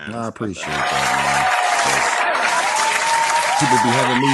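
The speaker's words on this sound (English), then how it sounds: "let's clap that up" A crowd breaks into sustained applause for about three seconds, a dense, steady wash of clapping, with someone talking briefly before and after it.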